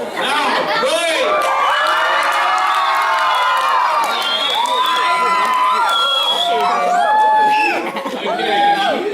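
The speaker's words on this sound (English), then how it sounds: "So let's practice making a lot of noise. You can shout, scream, clap," An audience at a Scifest Africa science lecture erupts in loud cheering, screaming and shouting, a dense wall of voices with whoops and some clapping.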